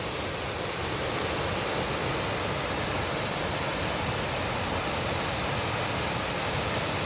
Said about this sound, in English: Looking straight onto the waterfall now,